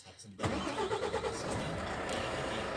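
A Renault truck engine, a Euro 6 model fitted with an AdBlue emulator, cranks and catches, then settles into a rough, steady idle close by.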